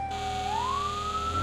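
A fire truck siren from the video game Firefighting Simulator - The Squad wails steadily, its tone sweeping upward and holding loud and close, with no talking over it.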